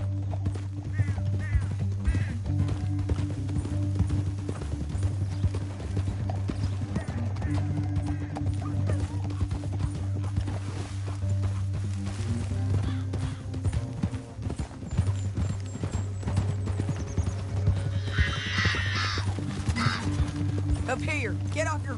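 Horse hooves clip-clop steadily in a Western video game setting as riders move through a canyon, rhythmic and close under a constant low rumble and game music, with a brief whinny near the end.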